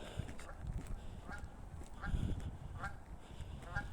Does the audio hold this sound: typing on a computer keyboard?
no